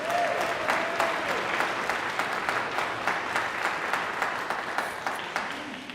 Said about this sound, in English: Would you thank them with your applause as well?